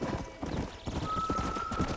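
Steady clip-clop of horse hooves in Red Dead Redemption in an even walking rhythm, moderately close, with a thin electronic tone and faint game background ambience.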